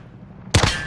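A single sudden burst of gunfire from the video game Call of Duty cuts in after a quiet moment, loud and close, its roar hanging briefly at the end.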